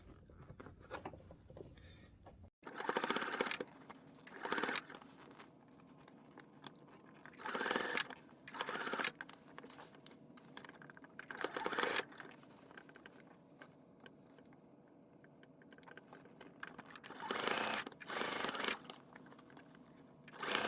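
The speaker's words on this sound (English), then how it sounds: "let's head to sewing machine and we're going to stitch on top of this back fold" A sewing machine runs in several short bursts of rapid mechanical stitching along a folded fabric edge of a pillow cover, separated by pauses with faint handling sounds.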